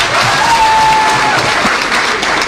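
Sustained applause from a crowd at an outdoor political rally in Lang'ata, Nairobi, a steady dense wash of clapping throughout with no speech over it.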